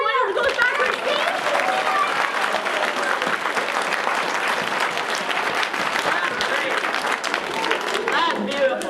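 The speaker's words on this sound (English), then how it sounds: "Big round of applause, everyone, as it goes back to his seat." Audience at a comedy stage show gives a sustained round of applause with cheering, dense and loud clapping filling the room for several seconds while voices rise through the crowd.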